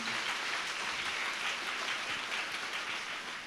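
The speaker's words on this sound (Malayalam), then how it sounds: "ഒരു നല്ല കയ്യടി നമ്മുടെ കർത്താവിന് കൊടുത്ത് നന്ദി പറഞ്ഞേ" A congregation at the El Ruha Bible Convention claps steadily, giving a continuous, even wash of applause with no voices over it.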